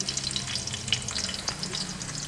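Chopped onions fry in a pan for kofta, a constant close sizzle with light crackles and occasional stirring scrapes.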